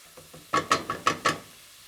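Apples browning in a pan, heard as a quick run of five rhythmic spatula scrapes and clacks against the pan, close and moderately loud, with faint frying noise around them and no voices.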